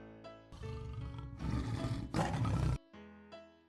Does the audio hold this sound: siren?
no